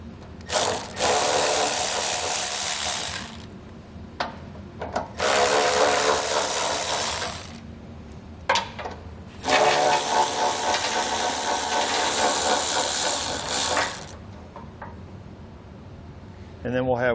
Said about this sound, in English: We're going to remove the 4 bolts on each side.